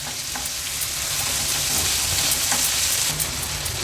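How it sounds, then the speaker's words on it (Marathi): Prawn thecha fries in a pan over a medium flame, giving a steady, close, crackling sizzle with scattered pops and no voices. "आता गॅसची फ्लेम मीडियमवर करते आणि ठेचा छान आपल्याला शिजवून घ्यायचा आहे।"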